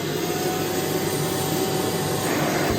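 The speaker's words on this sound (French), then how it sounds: "Du coup c'est un pistolet, là tu injectes, imaginons ici." A professional upholstery extraction cleaner running on a sofa, injecting and vacuuming with a loud, steady motor whine and rushing suction, close and continuous throughout, with no talk.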